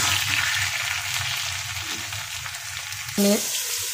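Vegetable curry with eggplant fries in a pan, a steady close sizzle with light stirring scrapes, then a brief tonal clink or beep near the end, no talking.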